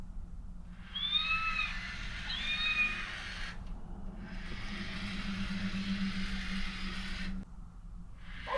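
A cat meow sample plays from an EBO Air 2 Plus home robot's speaker, a few drawn-out electronic meows over steady background hum, fairly close and clear.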